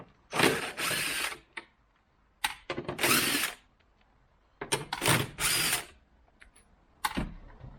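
A hand ratchet with a 10 mm socket, tightening screws on a car light fitting: several short bursts of rapid close clicking, separated by pauses, with no talk.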